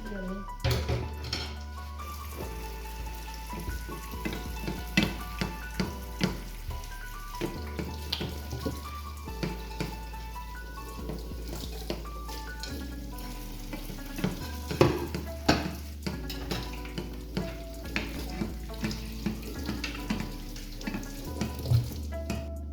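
Cauliflower pakoras frying in oil, a soft continuous sizzle under frequent stirring and clinking utensil knocks, with a low background hum throughout.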